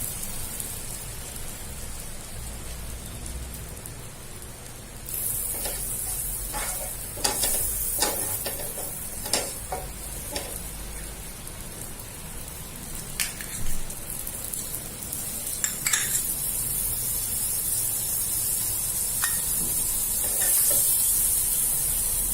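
Curry leaves crackle and sizzle in hot oil over a medium flame, a steady frying hiss that swells loudly partway through with sharp pops and spits, heard alone without talk.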